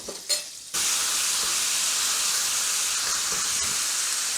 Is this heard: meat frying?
yes